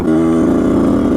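Motorcycle engine ridden through the streets of Naples, a loud, steady mid-pitched drone held close with no talk.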